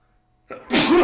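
A single sneeze, a short sharp intake followed by a loud explosive burst, close and alone.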